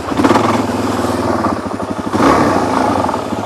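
A Suzuki DRZ400 dirt bike on tight OHV trails, its single-cylinder engine close and loud, chugging and revving unevenly at low speed with a rattly pulsing note and no talk.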